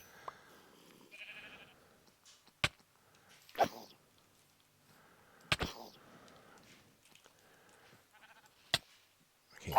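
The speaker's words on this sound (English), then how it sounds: "Sheep, dude. Stay away from me, please." Minecraft sheep give short bleats several times over a quiet game background, broken by sharp clicks, with no voices.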